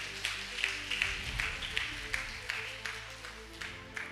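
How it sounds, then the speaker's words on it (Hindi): Church congregation clapping loudly, a dense spread of hand claps with recurring accented beats, fairly steady and sustained, heard alone without talk. "जोरदार ताली बजा दो।"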